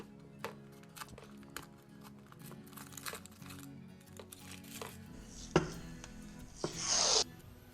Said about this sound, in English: go ahead and pull all the paper and tape off everything else